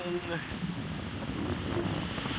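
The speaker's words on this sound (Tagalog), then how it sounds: "mapapansin nyo, malaki ang alon doon" Surf breaking against a beach resort shoreline at Pagudpud, Ilocos Norte, a steady broadband wash of waves with wind buffeting the microphone, continuous and fairly close.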